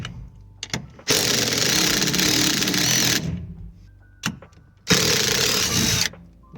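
An air impact gun zips out bolts on a vehicle lift in two loud sustained bursts of rapid hammering, each lasting a couple of seconds, with clanks of metal between them.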